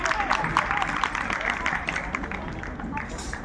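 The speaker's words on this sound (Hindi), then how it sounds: "जोरदार तालियां बजाकर के साथ" Students and guests in an audience gallery clap loudly at a village youth panchayat event in a school, a dense steady burst of hands with a murmur of voices mixed in.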